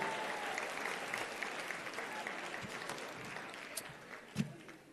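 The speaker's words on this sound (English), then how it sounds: "Round of applause for everyone." A convocation audience applauds its graduates with sustained, dense clapping from a large crowd, loud and continuous with a few sharper individual claps near the end and some voices mixed in.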